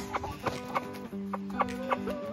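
Several homestead chickens cluck close by in short repeated bursts, with a steady background hum running underneath.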